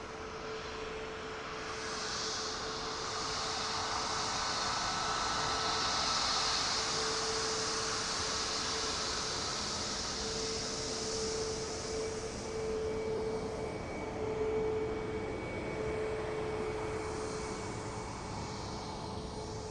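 Ryanair Boeing 737-800 jet arriving from Paris at Dublin Airport, a long steady jet engine roar with a faint whining tone, moderately distant and continuous, swelling slightly midway with no voices.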